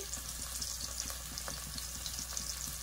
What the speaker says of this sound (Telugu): సాల్ట్ వేసుకుంటే తొందరగా ఉల్లిపాయ అనేది మగ్గిద్ది